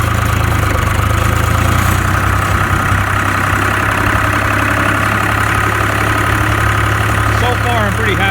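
A Case IH 395 tractor engine runs steadily throughout at a close, loud level, a low continuous drone with a faint higher whine, while the tractor is driven in first gear.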